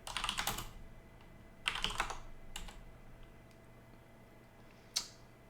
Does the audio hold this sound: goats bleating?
no